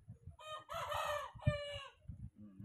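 A rooster crows loudly and close by, a long harmonic call with a sharp rise and trailing end, over a low rumbling background.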